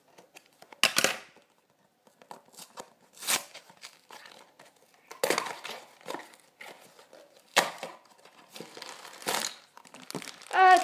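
Packaging of a Scribblenauts Unmasked game box crinkles and tears in several separate bursts as it is opened, close and fairly quiet, with short pauses between handling sounds.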